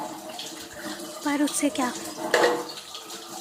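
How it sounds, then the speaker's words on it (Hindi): Cold tap water runs steadily into a kitchen sink while dishes are washed, a continuous rushing splash with occasional clinks, and someone talks over it. "मैंने फटाफट यहाँ पे बर्तन धोए और बहुत ठंडा पानी आ रहा था"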